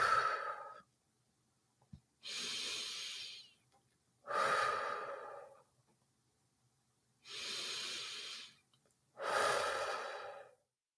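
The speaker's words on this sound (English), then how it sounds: "So let's do the 3 deep breaths." Three slow, deep breaths, each a soft inhale followed by a long, audible exhale, close and calm in a quiet room with pauses between them.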